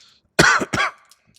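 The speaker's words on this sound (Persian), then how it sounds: "من سرفه میکنم" Two quick, harsh coughs from a person close by, one right after the other, followed by quiet.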